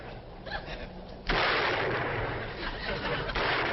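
Gunfire in a 1962 Beverly Hillbillies TV episode: a sudden loud blast followed by sustained crackling, rumbling report, preceded by faint voices.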